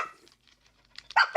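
A dog barks twice in quick succession at close range, loud sharp bursts that break a quiet indoor stretch with only faint scattered noises before them.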